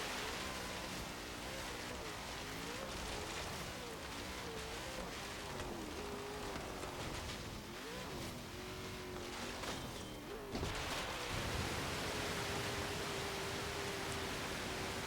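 A 2013 Ford Shelby GT500 in Forza Horizon 3 ploughing off-road through water, a dense continuous wash of splashing spray over a droning, wavering engine tone that steps louder near the end.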